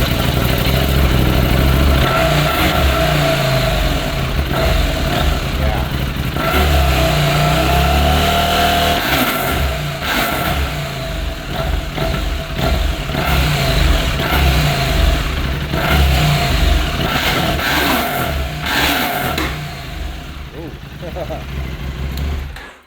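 KTM 790 Adventure from 2024 fitted with a non-catalyzed Arrow mid pipe, heard close as it runs and revs loudly in bursts. Someone talks over it throughout.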